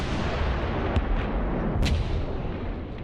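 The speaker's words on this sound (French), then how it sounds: "l'artillerie de la base d'appui-feu Firebase Falcon, basée à 8 km de la clairière, déclenche un violent tir de barrage" Vietnam War artillery barrage from a firebase, heard as a continuous dense rumble of distant fire with a few sharper reports standing out, sustained and loud throughout.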